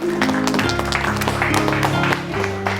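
Police officers in a Korean film scene clap at an appointment ceremony, giving scattered, crisp hand claps over a steady, droning musical bed that stays loud throughout.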